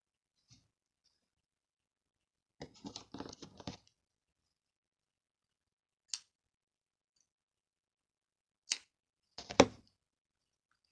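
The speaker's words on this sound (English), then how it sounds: "I'm going to cut my yarn" Scissors snip crochet yarn at close range in a quiet room, with a short cluster of crisp cuts followed by isolated snips and another quick double cut, separated by silence.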